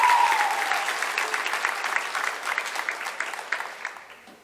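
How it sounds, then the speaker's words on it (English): Audience applause for a teacher at a high school awards ceremony, a full burst of clapping that opens loud and gradually thins and fades over several seconds. "I want to give a round of applause to Ms. Ward for what she done for these kids"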